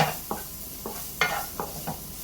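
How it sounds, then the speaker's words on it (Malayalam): Chopped onions and vegetables being sautéed in a pan for butter garlic egg fried rice, with a soft sizzle and about five separate spatula scrapes spread across the stretch, no talk. "അപ്പോഴത്തേക്ക് നമുക്ക് ഈ പച്ചക്കറിയൊക്കെ വഴറ്റിയെടുക്കാം."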